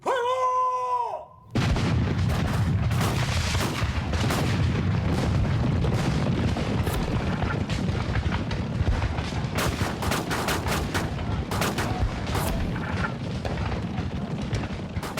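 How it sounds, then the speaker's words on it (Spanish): Heavy cannon and gunfire boom continuously, with dense overlapping blasts and cracking shots rolling on without pause after a brief opening tone. "se escuchó el primer cañonazo"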